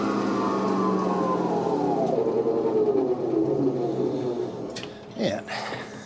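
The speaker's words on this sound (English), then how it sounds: "Close the hood, hit the go button, and we are spinning" A BFG KT tire on its wheel spins up on a wheel balancing machine with the hood closed, a steady whirring hum that sweeps down in pitch as it slows, with brief clunks near the end.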